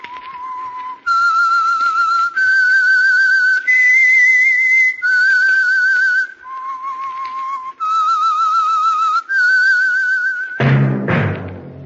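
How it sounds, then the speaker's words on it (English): A clear whistled signal tune from the radio program The Whistler, about ten sustained notes, loud and close with brief pauses between phrases, ending in a short orchestral sting. "That whistle is your signal for the Signal Oil program"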